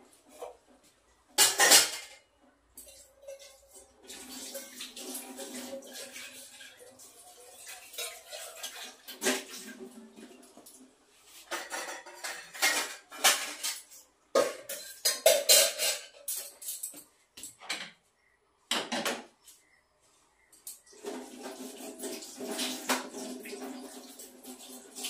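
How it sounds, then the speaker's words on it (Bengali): Tea utensils and dishes are washed in a kitchen sink: intermittent clinks and clatters of metal pots and cutlery mixed with bursts of running water, close by and uneven in rhythm. "তো এটাকে এখন ধুয়ে রাখছি।"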